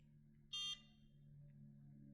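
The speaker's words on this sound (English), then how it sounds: "When you hear the beep, that's when you know you need to go to the next section of the face." A NuFace facial toning device gives a single short, high electronic beep over a quiet, steady low hum.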